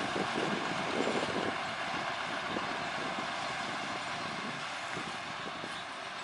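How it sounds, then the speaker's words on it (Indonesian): Hokuriku locomotive number 4 running along the PG Semboro sugarcane rail line toward Jombang, a steady continuous rumble and rattle with wind-like hiss throughout, no voices. "lokomotif Hokuriku melanjutkan perjalanan"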